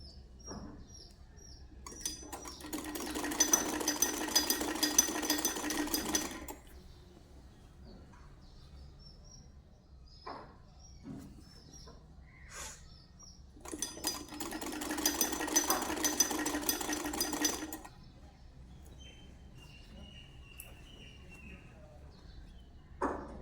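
A sewing machine stitches a shalwar in two separate runs of about three seconds each, close and moderately loud, with quiet gaps and small clicks between them.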